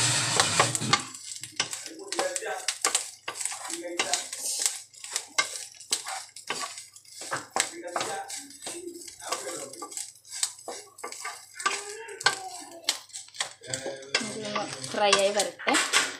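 Sliced onions stirred into clam meat frying in a pan, giving a steady run of utensil scrapes and clinks against the pan over a soft sizzle, close and fairly busy throughout.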